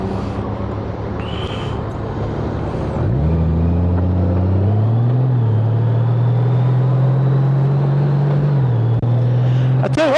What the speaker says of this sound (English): Downshift, manual downshift. Help the brakes out a little bit